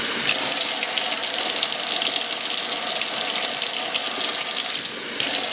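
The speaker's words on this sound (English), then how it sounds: "I'm going to add a little bit more water." Tap water runs steadily into a mixture being made to tint a lace frontal, a continuous close, loud splashing rush with no talk.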